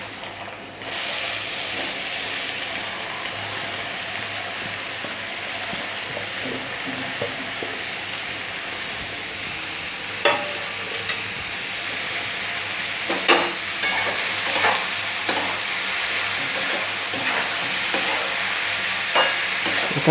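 Finely chopped onion dropped into hot oil on high flame, a loud continuous hiss of frying throughout, with occasional spatula knocks and scrapes as it is stirred, close up with no talking.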